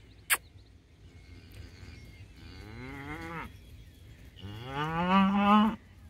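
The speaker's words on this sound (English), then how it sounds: "Come on, cow." Steers being driven between paddocks moo repeatedly: two long, drawn-out lowing calls rise and fall, the second louder and closer, with quiet outdoor background and a brief knock near the start.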